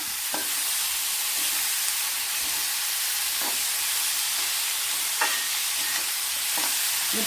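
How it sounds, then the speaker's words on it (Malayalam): Ivy gourd stir-fry frying on a medium flame in an open pan, with a steady sizzling hiss throughout and a few soft scraping stirs of the spatula, close and alone. "ഇനി ഫ്ലെയിം ഒന്ന് മീഡിയം ഫ്ലെയിം ആക്കിയാണ് ഇനി ഇടയ്ക്കിടയ്ക്ക് നമ്മൾ ഇളക്കി കൊടുക്കാം"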